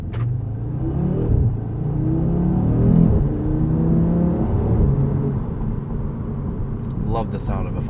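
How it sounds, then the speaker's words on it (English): A 2022 Audi RS 3's five-cylinder engine drones and rises through steady revs, heard from inside the car at moderate loudness, with people talking over the engine note. "Love the sound of a 5-cylinder."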